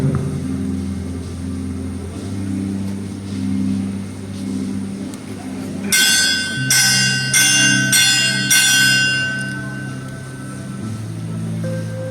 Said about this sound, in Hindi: घंटी मैंने बजाई। मिस्सा का समय हो गया है।